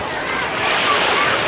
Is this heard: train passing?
no